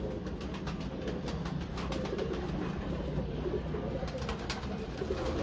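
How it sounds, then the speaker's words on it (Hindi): Breeder pigeons cooing steadily through a continuous low murmur of birds, close and moderately loud, with no talking. "ये जी बड़ा मेन कबूतर 20 नंबर"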